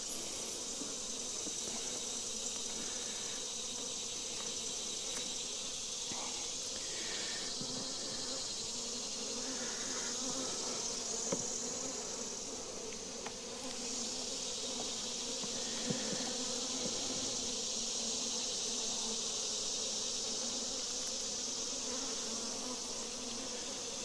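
Honey bees buzzing among hive frames during a swarm's move into a new hive, a dense continuous hum that stays steady and close for the whole stretch, with no talking.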